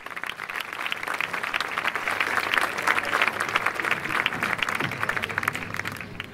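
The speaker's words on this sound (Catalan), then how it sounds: "Un aplaudiment pel Cesc també" An audience at an indoor recognition ceremony in Reus claps steadily and continuously throughout, a dense, even round of applause from a crowd with no break.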